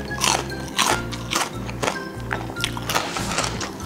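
Someone bites into crunchy, deep-fried ote-ote vegetable fritters, making several loud, close crunches one after another over a low steady background.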